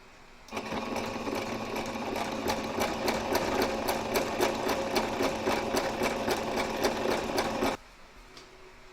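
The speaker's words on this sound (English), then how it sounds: "now we're going to stitch that on" A sewing machine stitching binding onto a quilted table runner, running steadily for about seven seconds with an even rapid needle rhythm, close, then stopping abruptly.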